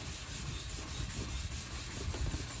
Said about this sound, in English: So what I'm going to do is just pretty much rub down this whole fender